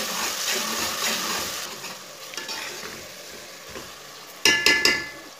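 Tomatoes and green chillies stirred into a sizzling pan of mutton masala curry, a steady frying hiss that fades, with sparse scraping stirs and a late burst of sharp clattering spoon knocks against the pot.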